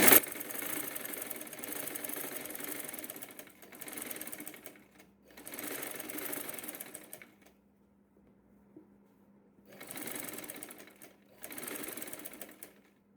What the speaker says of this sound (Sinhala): මේ රෙදි පට දෙක එක පැත්තකටත් කරපට එක පැත්තකටත් හිටිනසේ ඇදලා මැහුම් ගහ ගන්නවා